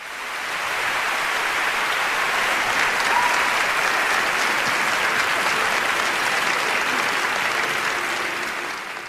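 An audience applauds students from 17 countries and their teachers, a dense, even wash of clapping that swells in, holds loud and steady for several seconds, then fades away.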